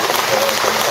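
Audience applause in thanks after a Buddhist monk's dharma talk at a temple founding ceremony, a steady dense wash of clapping filling the whole short moment.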